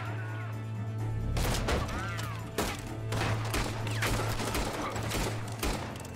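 Rapid bursts of gunfire from the Red Dead Redemption 2 video game crack out in a fusillade of overlapping shots over a low steady hum, with a voice briefly audible between them.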